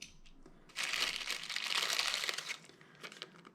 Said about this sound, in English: Plastic bag with 2 shims in it.